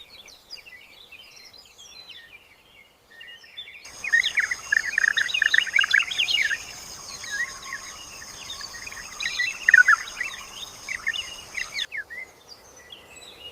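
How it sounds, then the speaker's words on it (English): Small songbird sings in a natural habitat, bright rapid chirps and warbled phrases that fade in faintly, swell louder and busier through the middle over a steady insect-like drone, then thin out again near the end. "Mature song reveals the bird's completed life journey."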